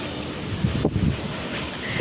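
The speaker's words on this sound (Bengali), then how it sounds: "দেখেন জাস্ট কি সুন্দর বাতাস" Wind blowing outdoors under a cloudy sky, a brief steady whoosh that buffets the microphone with low rumbling gusts and no talking.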